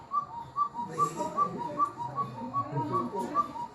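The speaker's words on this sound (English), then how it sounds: "if you guys were inside a cuckoo clock, this is how you would sound." Repeated two-note whistled calls in a steady rhythm, like a cuckoo clock, over quiet murmuring in the background.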